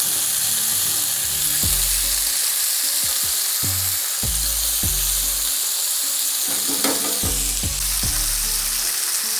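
Real butter sizzles hard around a rack of lamb in a hot cast iron pan, a loud, continuous close-up fry with occasional lower thumps and crackles, no one speaking.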